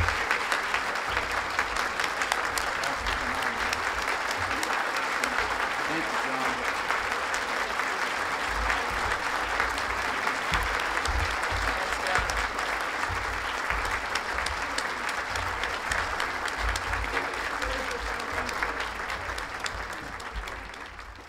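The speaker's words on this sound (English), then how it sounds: "let's give all these folks a big round of applause" Audience applause at a historic preservation awards ceremony in Arkansas: a large crowd claps steadily and densely for about twenty seconds, loud and even throughout, fading slightly at the end.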